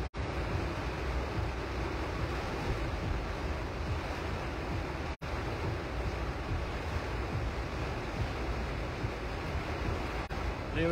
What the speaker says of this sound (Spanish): Está lloviendo muy fuerte acá.